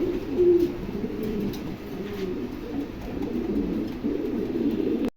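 A molting pigeon coos steadily in a low, throaty rhythm, with a louder burst early on and continued cooing throughout, close to the recorder with no talk.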